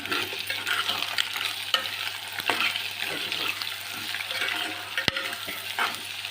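Egg curry with turmeric and salt is stirred in a hot pan: a steady sizzle and frying crackle runs throughout, broken by close scraping stirs and one sharp tap of the utensil.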